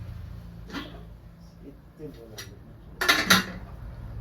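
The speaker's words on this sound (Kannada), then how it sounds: "ಹಿಂಗೆ ಹಾಕ್ಬಿಟ್ಟು ಕುಕ್ಕರ್ ಮುಚ್ಚಳವನ್ನು ಮುಚ್ಚುವುದು." A pressure cooker lid being put on during cooking of egg biryani, giving a brief metallic clatter and clink of a few quick knocks near the end, with a voice talking throughout.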